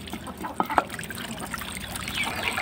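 Water is poured into a container for young birds, giving a close, uneven trickle and splash with a few brief clinks as it lands.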